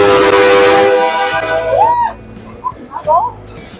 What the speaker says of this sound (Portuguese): Vou tocar a buzina.